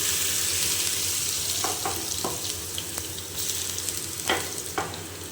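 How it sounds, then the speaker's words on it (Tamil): Ground garlic and ginger paste frying in hot oil left over from frying fish, a steady close sizzle with a few soft spoon scrapes and clicks, no voices. "பொரித்து எடுத்த எண்ணெய் அடுப்பில் இருக்குல்ல, அது கூடயே பூண்டும் இஞ்சியும் அரைச்சி வச்சதை போட்டுக்கணும்"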